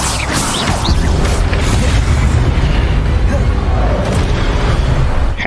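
Spell effect in the video game Hogwarts Legacy, a steady, loud rumbling blast with low booming energy that sustains for several seconds without a break.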